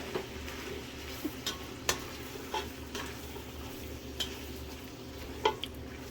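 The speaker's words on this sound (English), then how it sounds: "Now that we've got some grease going, I'm going to add the garlic and the onion. I'm going to mix this in there real good." Garlic and onion are stirred into hot bacon and sausage grease in a soup pot, a soft steady sizzle broken by scattered scrapes and clicks of a spoon against the pan, with no talking.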